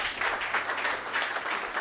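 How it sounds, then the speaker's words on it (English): An audience claps at a talk about character houses in Brisbane, steady close applause in a dense patter lasting under two seconds. "Round of applause for Alex."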